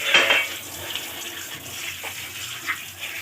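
Running water from a tap splashes as bay leaves are rinsed for a chicken dum biryani, a short, close, fairly soft stream with light handling sounds and no talking.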